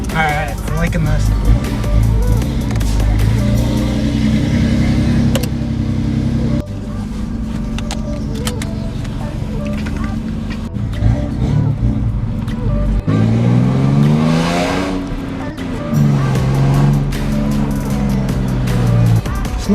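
A V6 Mustang fitted with a homemade straight-pipe dual exhaust drives and accelerates, the engine droning loudly and rising in pitch through several revving pulls, with a person talking over the noise.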